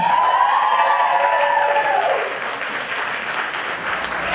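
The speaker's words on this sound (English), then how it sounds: "Round of applause one more time, Jen Waterman." A crowd at a New Jersey get-out-the-vote rally with Chelsea Handler cheers and applauds: a loud rising-and-falling shout over clapping, then steady applause continuing to the end.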